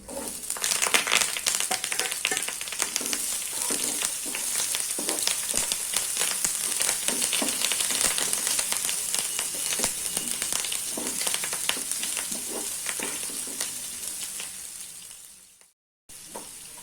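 Onion, curry leaves and three dried red chillies fry in oil in a pan for red poha upma, making a dense, loud, crackling sizzle with stirring. It briefly cuts out near the end, then resumes.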